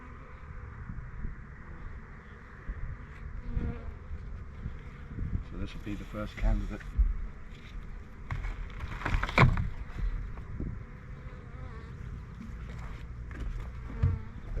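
Honeybees in an opened hive of about five frames give a steady, close buzzing hum that runs throughout, with a person talking over it.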